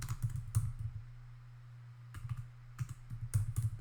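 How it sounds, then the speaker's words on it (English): Quiet bursts of keystrokes on a computer keyboard, clicking in short irregular runs with brief pauses, close and soft, with no talking. "And then here you just type the text that you want"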